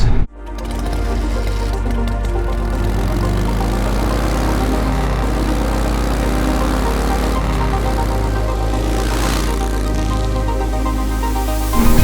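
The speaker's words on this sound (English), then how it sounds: "I'm testing the Yamaha Tracer 9" A 2021 Yamaha Tracer 9 GT motorcycle engine runs steadily and close by, a loud continuous droning hum with strong low tones that holds through the whole stretch and swells slightly near the end, with no talking.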